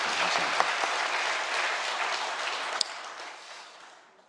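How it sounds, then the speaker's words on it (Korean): Church congregation applauding during a Korean worship service, a warm burst of clapping that starts full and gradually thins and fades away over a few seconds. "우리 저 2층에 우리 형제 엄마, 젊은 엄마 아빠 우리 한번 위로의 박수 한번 하겠습니다"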